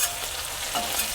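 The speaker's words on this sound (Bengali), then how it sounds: "প্রথমে আমি মাছটা ভেজে নেব," Fish coated in salt and turmeric frying in oil, a dense, close, continuous sizzle with no voices over a brief moment.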